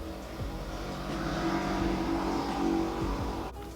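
Motorbikes revving on a city street in Philadelphia, a steady engine drone swelling and falling as they pass, moderately loud with no talk.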